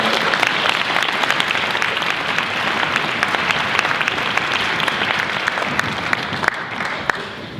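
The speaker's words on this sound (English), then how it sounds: "Can we give them a round of applause?" Sustained audience applause at a middle school honors band send-off concert, a steady wash of many hands clapping with no talk over it.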